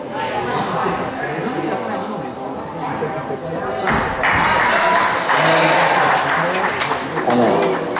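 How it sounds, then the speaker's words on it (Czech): Crowd applause at a gymnastics competition swells in the middle of the routine, with voices and chatter mixed in the arena and occasional thuds and taps from the floor. "Zaslouží si potlesk"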